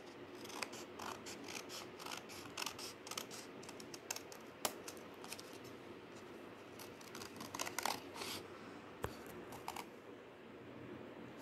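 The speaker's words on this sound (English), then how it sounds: "Now it's the time to cut." Scissors snip through paper card while a heart shape is cut out for handmade card making, a quick irregular run of crisp close cuts with light paper rustle, no talking.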